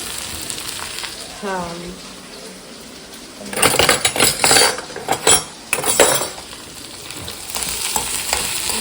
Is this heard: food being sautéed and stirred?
yes